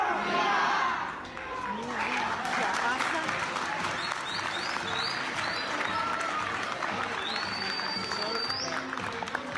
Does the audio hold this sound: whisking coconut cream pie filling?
no